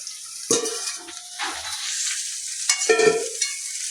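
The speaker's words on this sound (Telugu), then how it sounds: "శనగలు వేసేద్దాం, కలిపేద్దాం." Chickpeas are tipped into hot tempering in a pan and stirred, giving close, loud bursts of sizzling and frying with scraping stir strokes in two main waves and quieter crackle between, no voices.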